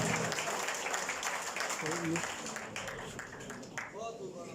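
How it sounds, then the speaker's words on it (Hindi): Audience applause at a mushaira poetry gathering in Bhimbar, clapping that fades gradually while a voice speaks and calls out over it, moderately distant. "आप सबकी भरपूर तालियों में राना सईद जोशी साहब"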